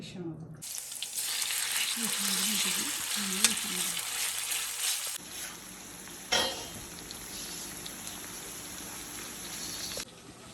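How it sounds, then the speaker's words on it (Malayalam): Oily fish fries in an iron pan, a steady bright sizzle running throughout with a sharp spatter burst midway, while a voice talks briefly at the start. "അത് നല്ല പെട്ടെന്ന് തന്നെ വറുത്ത് ശരിയാവട്ടെ"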